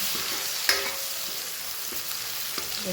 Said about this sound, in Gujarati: હિંગ એડ કરીએ એમાં અને ચોપ કરેલી ડુંગળી એડ કરી દઈએ